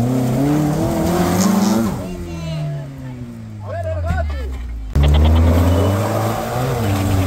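Off-road vehicle engine revving and straining on a rough mountain trail, loud and close with rising and falling revs and a sudden jump in power, while people talk over it.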